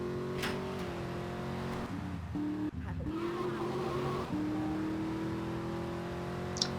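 Car engine in GTA III droning and shifting pitch as the new car drives in the rain with failing brakes, steady hum with brief skid-like breaks, moderately loud without talk.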